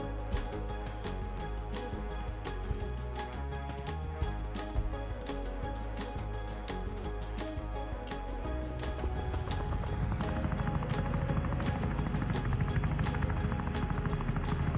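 A steady helicopter rotor drone in the video game Wobbly Life, with a low thumping pulse, growing louder and denser toward the end, with no talking.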